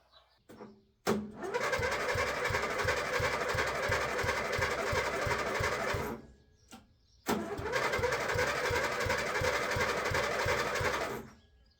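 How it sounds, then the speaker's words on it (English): An old ride-on mower cranked over twice, each attempt a long run of rhythmic chugging pulses lasting several seconds before it stops without catching, loud and close. "we'll fire up one of these old ride-on mowers and go and do that."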